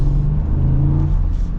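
Ford F-150 Tremor with a 5.0 V8 revving loud and close, a steady deep burbling rumble holding through the whole short stretch with no talk.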